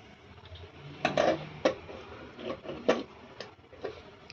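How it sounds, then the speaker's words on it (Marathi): A lid set onto a cooking pot of boiling lentil vadas, heard as a series of light metallic clinks and taps, several close together, at moderate level with quiet room tone between them. "यावर झाकण ठेवूया"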